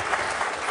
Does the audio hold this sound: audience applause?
yes